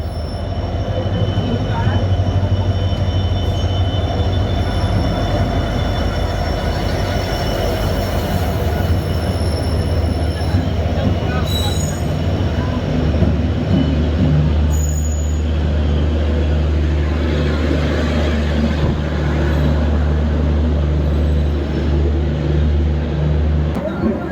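The Darjeeling Mail passenger train rolls loudly into a platform with a constant heavy rumble and high metallic wheel squeals throughout, nearby and continuous.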